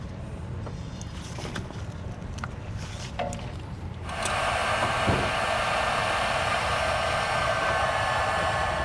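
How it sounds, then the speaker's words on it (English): A heat gun blowing to shrink heat-shrink tubing over a crimped wire connection for a Hydrastar electric-over-hydraulic brake actuator kit, switching on at about four seconds into a loud, steady close-up airflow roar that holds to the end. "then we'll use our heat gun and just shrink that up"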